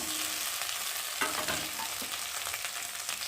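Potatoes with ground cumin and ginger paste fry in hot oil, a steady close sizzle with a few scraping stirs, no voices.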